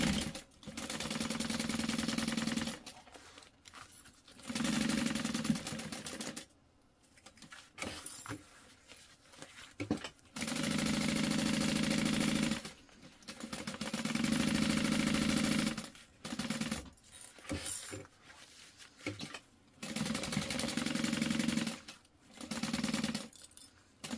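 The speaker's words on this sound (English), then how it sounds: "now we're gonna sew the sides and the top" A sewing machine stitches the sides and top of a medium tote bag in repeated runs of rapid, steady whirring, broken by short pauses between seams.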